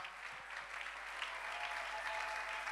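A church congregation at a Sunday worship service claps to acclaim the Lord, steady sustained applause filling the room without pause.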